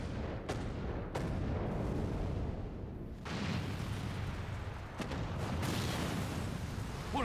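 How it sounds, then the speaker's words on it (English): Long-range artillery fire in Final Fantasy XIV: heavy booming blasts, several sharp onsets over a continuous low rumble of battle, loud and dense throughout. "Long-range artillery."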